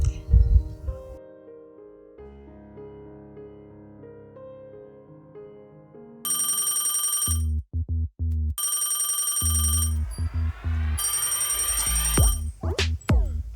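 A telephone rings on an outgoing call, its repeated electronic ringtone bursts loud and close, alternating with short pauses, after a stretch of soft tonal music.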